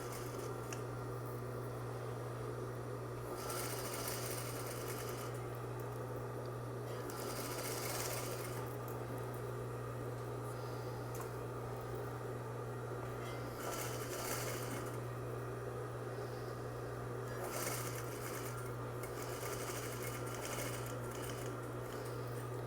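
Sewing machine stitching the final assembly seams of a messenger bag, running steadily through the whole stretch with a constant motor hum and a few louder bursts as the needle speeds up; no talking.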